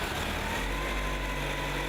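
A modified VAZ-2107 car engine, reworked from about 70 to 100 horsepower, runs steadily with a low, even drone and hum throughout, close and loud with no talk.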